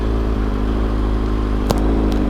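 A motorcycle holds a steady, droning engine note during a wheelie, heard close and continuous with a brief clatter near the end and no talking.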